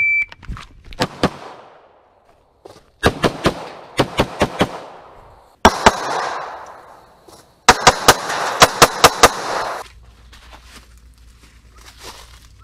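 A rapid string of gunshots from a shooting drill, fired in tight bursts of sharp, loud cracks with short pauses between groups, each report ringing briefly before the next.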